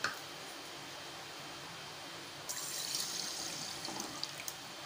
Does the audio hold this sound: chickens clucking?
no